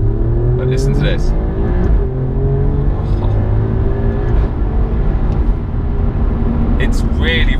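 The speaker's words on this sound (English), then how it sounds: "I want to hear this engine, it's really nice. Let's just accelerate out here." Alfa Romeo Giulia Quadrifoglio, a 503 bhp sports saloon, accelerates on the road with a steady, loud engine drone rising in pitch, heard from inside the car with some talk over it.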